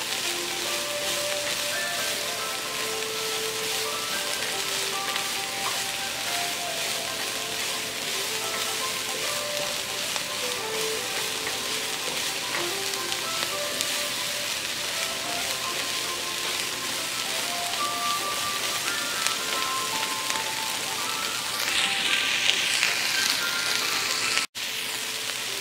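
Onions browning in a pot as the base for braised smoked pork hock, giving a steady, dense sizzle that holds level throughout with no voices.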